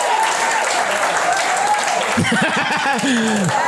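A comedy roast audience applauds loudly and steadily throughout, like a dense wash of clapping. Near the end, whoops and cheering voices rise over the clapping.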